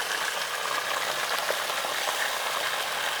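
Bacon and bratwurst frying on a Blackstone griddle, a dense even sizzle heard close and steady throughout, no talk.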